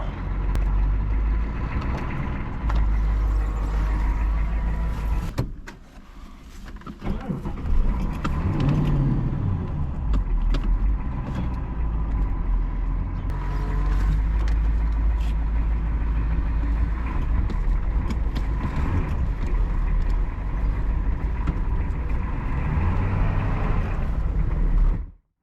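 A Ford van with a turbocharged 6.9 IDI diesel engine drives along, its low engine drone steady and close, with a brief dip and change in pitch partway through as it shifts, then resuming its continuous rumble until it cuts off.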